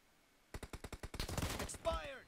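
Video game gunfire: a rapid burst of about a dozen automatic shots accelerating into a dense volley, close and punchy, ending in a ringing, whooshing tail.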